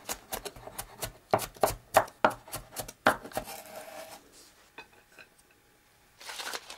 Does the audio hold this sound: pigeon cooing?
no